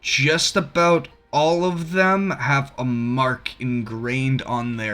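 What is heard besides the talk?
No everyday noise stands out behind the speech.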